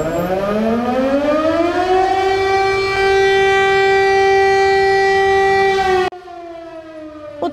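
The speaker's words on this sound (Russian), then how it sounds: "Сегодня по всему Алтайскому краю звучали сирены." Civil defense warning siren sounding during a region-wide test of public alert systems in Altai Krai, Russia, a loud rising wail that holds a steady tone, then cuts off sharply, with a quieter siren continuing far off.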